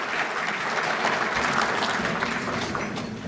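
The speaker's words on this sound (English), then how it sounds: "Let's give Eric a round of applause." An audience at the Bay Area Chamber of Commerce annual dinner applauds its master of ceremonies, a steady, dense wash of clapping from many hands that fills the whole stretch without a pause.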